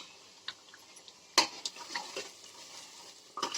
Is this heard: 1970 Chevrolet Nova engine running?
no